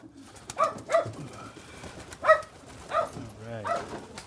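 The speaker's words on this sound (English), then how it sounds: "You can hear Bernard's barking in the background" A dog barks intermittently in the background during an animal worship service at a temple with a pigeon aviary, a few short separate barks mixed with pigeons cooing nearby.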